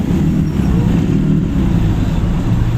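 Steady road traffic in La Trinidad, a dense low rumble of car engines idling and creeping forward in a jam, continuous and close with no talk.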